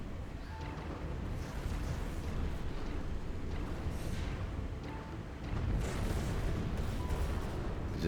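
Heavy space battle in Stellaris, with arc emitter weapons and carrier strike craft firing, forms a dense, continuous wash of booming, crackling weapons fire and explosions that stays fairly steady throughout, with no voices.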